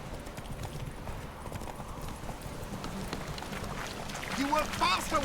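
Hooves of a horse galloping in a race in The Witcher 3, a steady rapid clip-clop running throughout at moderate level, mixed with game sounds and brief voices near the end.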